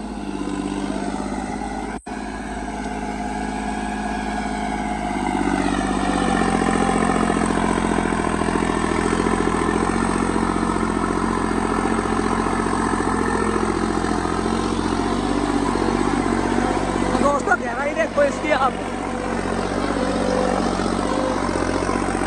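A New Holland tractor engine runs steadily at 1600-1700 RPM with both levers down, a low, even drone that grows slightly louder partway through, with a brief clatter near the end.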